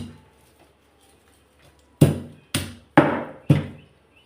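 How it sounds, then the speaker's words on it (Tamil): Garlic cloves being crushed for a kovakkai (ivy gourd) fry: four sharp, loud pounding thuds spaced about half a second apart after two seconds of near silence, no talking. "2 பூண்டு பல் தட்டி போட்டுக்கலாம்."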